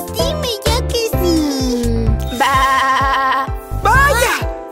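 A cartoon sheep in a Spanish children's song bleats several times, bright wavering cries close up over light tinkling music.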